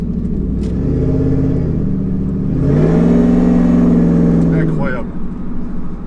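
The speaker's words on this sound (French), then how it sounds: "Là j'ai tout donné et ça gueule, le compresseur il gueule." A supercharged V8 Ford F150 Lightning pickup revs hard, its engine note climbing into a loud, sustained roar with supercharger whine before dropping off, with someone speaking over it.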